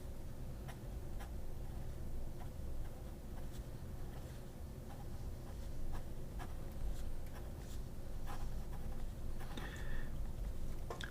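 A dip pen nib fitted with a feed scratches across paper in a faint, close series of light scritches and ticks, irregular strokes over a quiet room background.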